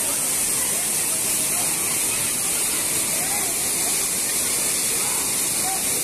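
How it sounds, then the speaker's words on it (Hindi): Water pours down the Namaste Jharna waterfall in a steady, loud, hissing rush, heard from a short distance with no letup throughout. "सुरेंद्र सर मजे ले रहे हैं झरना के पानी का, वो भी दूर से।"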